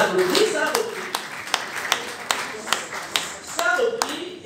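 A small audience at a press conference clapping, with sparse, uneven hand claps at close range mixed with a voice talking over them.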